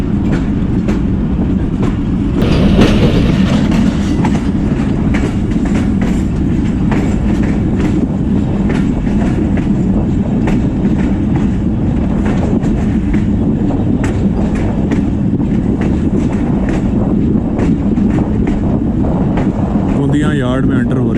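The Mehr Express AC standard train clatters into a railway yard in Pakistan with a continuous, loud rolling rumble and rhythmic clickety-clack over the track joints.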